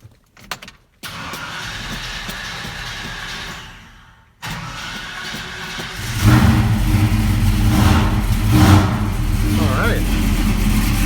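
A 1972 Chevy C10 engine being started after a jump from a booster: brief clicks, a steady cranking whine, a short pause, then the engine catches and settles into a loud, close idle with a voice talking briefly.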